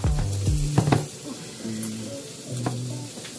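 Butter sizzling in a frying pan for Puerto Rican scrambled eggs with shrimp: a close, bubbling sizzle with a few quick stirring scrapes near the start, over a background harmonic tone.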